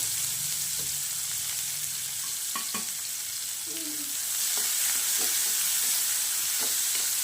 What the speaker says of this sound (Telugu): ఆయిల్తోనే నేను మళ్ళీ దీంట్లో ఆనియన్స్ అవి అయితే వేసుకొని వేయించుకుంటున్నాను